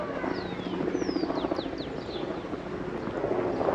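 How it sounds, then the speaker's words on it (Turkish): A helicopter's steady low rotor thrum passes overhead at moderate distance above a Guatemalan village, with faint bird chirps and outdoor ambience. "Helikopter gidiyor."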